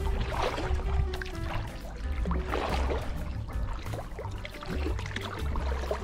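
A kayak paddles through shallow rapids on the Maumee River, with steady splashing and trickling water and rhythmic paddle strokes close by.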